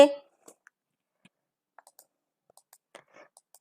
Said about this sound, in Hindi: जैसे ही हमने रिज़ल्ट बटन को क्लिक किया